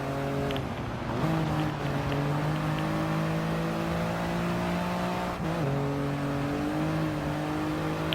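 A Toyota GR Yaris RZ First Edition in Gran Turismo Sport holds a loud, continuous engine drone that steps through gear changes, rising and dropping in pitch, with faint tire noise as the car slides into a turn.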